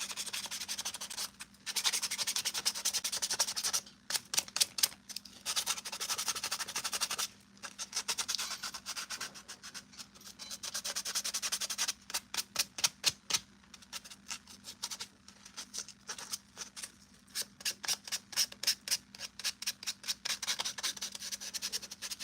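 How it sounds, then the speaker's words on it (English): Repeated sanding strokes rasp against hard 3D-printed Purge Trooper armor pieces, alternating between long continuous rubs and quick rhythmic bursts, with brief pauses between passes. "So I'm sanding these"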